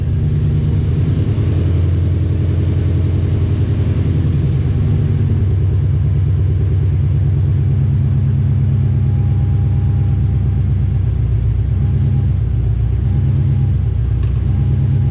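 A car engine idles steadily after the ignition is switched on, a loud, continuous low rumble with slight variations in pitch, running alone without talk throughout.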